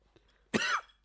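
A single sharp, loud cough bursts out close by after a quiet moment, trailing off with a raspy tail.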